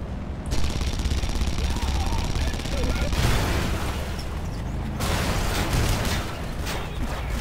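Gunfire in the video game Red Faction Guerrilla, a loud sustained burst of rapid automatic shots with booming impacts, the volley shifting in texture partway through and running almost the entire time.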